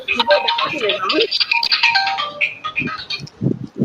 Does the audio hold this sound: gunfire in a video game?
no